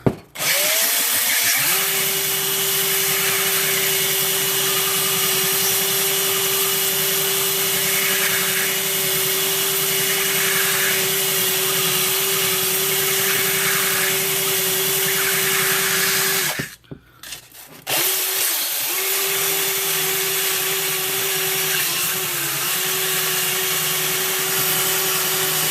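A power drill spins a part against sandpaper as a makeshift lathe while removing anodizing from a Dark Apprentice V4 customized lightsaber hilt; a loud steady whine runs nearly continuously, cutting out briefly around the middle before resuming.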